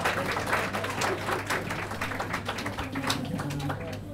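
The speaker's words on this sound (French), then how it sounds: "Je vous demande de l'applaudir" A crowd applauds with dense, steady clapping that holds evenly for several seconds before easing slightly at the end.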